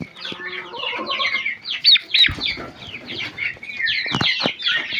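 Chicks cheep and chirp busily in a poultry yard shared with turkeys, with a few louder calls and clucks mixed in, close by and fairly loud throughout.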